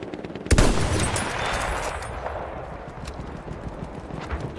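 In a Battlefield 1 multiplayer match, enemy machine gun fire opens with a sharp loud burst and then carries on as scattered, rattling shots that grow fainter and more distant.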